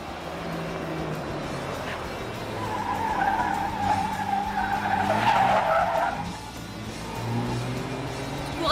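A car drives fast with tires screeching and skidding through the middle, loud and close, over a steady engine roar, then the squeal fades.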